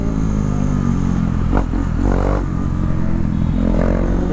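Motorcycle engines from a KTM Duke 390 and a Kawasaki Ninja 300 in a street race, a loud steady drone with brief rev swells and some clatter, heard close with no talking.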